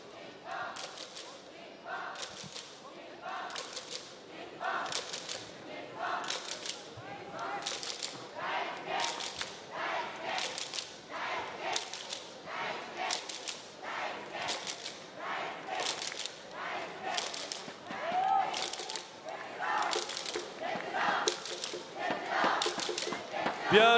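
A large audience at a pastry competition claps in long, sustained applause, steady rhythmic bursts over music in a big hall, with a loud voice carrying over the crowd.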